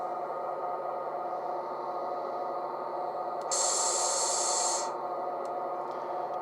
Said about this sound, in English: And then on F8 we have a air release.